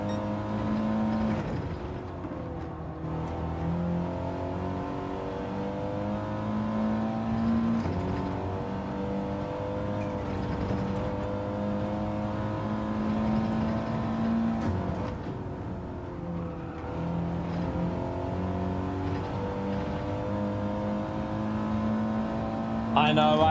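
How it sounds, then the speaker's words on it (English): An Audi TT drives in the video game Gran Turismo 7, its engine droning steadily with shifting pitch as it revs and changes gear, loud and continuous throughout. "I just wanted to give this Audi TT a little run to see what it's like."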